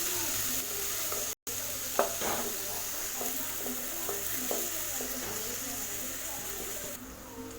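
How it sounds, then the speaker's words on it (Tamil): Sliced onions sauté in hot oil with cumin for an Indian egg curry, giving a steady frying sizzle with soft scrapes and taps of a spoon stirring the pan, plus a brief dropout early on. "வெங்காயம் நல்லா வதங்கணும்"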